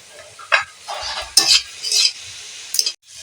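Red amaranth greens stir-fried with potato: several brisk, close scraping stirs of a spatula through the pan over a light sizzle, in short bursts with pauses between.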